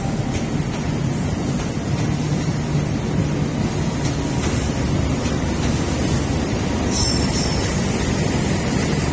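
Sembrani passenger train rolling into track 4 at Jatinegara station in the afternoon, a steady, loud broadband rumble of wheels and cars on rails with brief high squeals near the platform, no voices.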